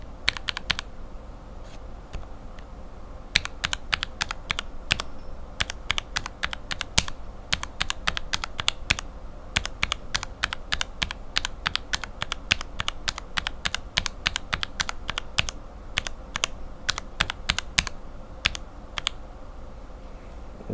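Mechanical keyboard switches with Cherry bottom housings clack under fast typing, sharp crisp keystrokes in quick irregular bursts with brief pauses, close and clear with no voices.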